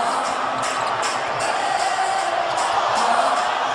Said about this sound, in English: the chants of Jeremy now thundering down from the sellout crowd